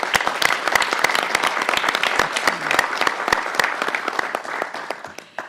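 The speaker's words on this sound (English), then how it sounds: "May we all welcome Campus President Williams with a round of applause." A large audience at a Texas Woman's University Board of Regents meeting claps steadily, the dense applause holding loud for several seconds before easing toward the end.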